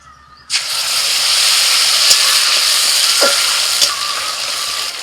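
Ground spice paste dropped into hot oil with bay leaf, cardamom, cinnamon, cloves and a dried chilli, bursting into a loud sudden sizzle that holds as a steady hiss with small pops.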